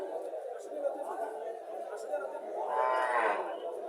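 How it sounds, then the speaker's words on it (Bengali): At a cattle market in Barura, Comilla, with a Friesian cow and her calf, one clear, drawn-out moo rises near the end over a low murmur of crowd chatter. "বাছুরটা সার বাছুর, ফ্রিজিয়াম জাতের গাভী।"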